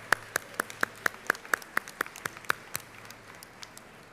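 Rhythmic clapping of a convocation audience for a steel drum band, about a dozen sharp, evenly spaced claps that thin and fade toward the end, fairly close and without talk.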